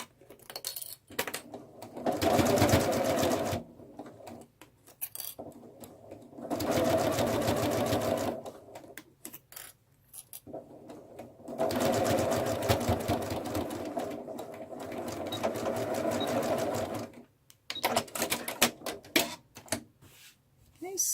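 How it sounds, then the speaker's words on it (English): A sewing machine stitches through all the fabric layers of a bunny gift bag in three long, loud mechanical runs, separated by short pauses with small clicks and handling noises. "I do a couple stitches, back stitch, and I'm sewing through all the layers."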